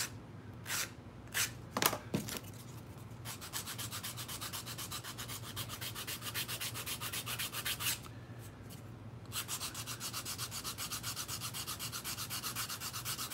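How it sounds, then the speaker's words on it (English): Close, rapid sanding strokes rub back and forth across 3D-printed plastic in a steady rhythm, with a few sharper scrapes near the start. "sanding 3D printed stuff is a whole lot more difficult than sanding resin"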